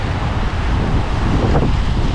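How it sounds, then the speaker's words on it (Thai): High sea waves wash continuously onto a beach where an inflatable boat with a Suzuki DF6 outboard is being launched; the close, loud surf noise blends with heavy wind buffeting the microphone. "วันนี้คลื่นก็ค่อนข้างสูงนะครับ"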